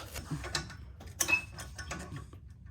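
A jack slowly lowering the rear axle of a 2002 Mustang during a coil-over install, giving close, uneven mechanical clicks and metallic creaks in short irregular bursts, with one sharper clank partway through and no talking.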